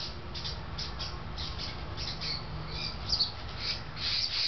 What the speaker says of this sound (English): 2 different birds having fits over her.